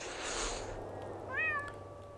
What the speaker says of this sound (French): Oh, les petits chats!